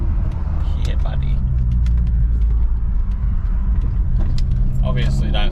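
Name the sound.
decatted car with no muffler idling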